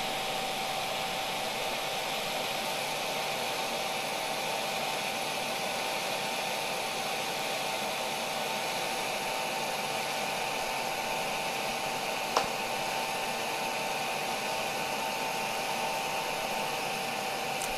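A steady, airy whir with a faint high hum from a 3D printer's cooling fan, a Longer LK5 Pro, runs unchanging throughout, with one brief click partway through.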